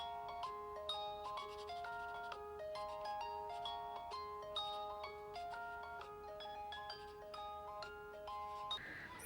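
A phone ringtone plays a steady, repeating electronic melody of bright tonal notes, moderately loud and alone with no talking, cutting off abruptly near the end.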